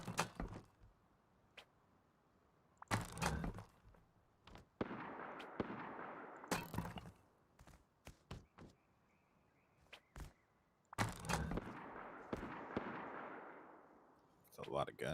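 Gunfire in the survival video game Rust: sharp, loud bursts of several shots in quick clusters, with quieter single cracks between them and a softer stretch where voices talk underneath.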